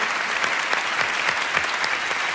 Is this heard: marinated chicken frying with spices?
no